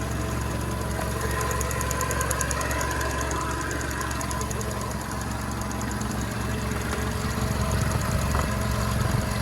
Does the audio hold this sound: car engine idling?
yes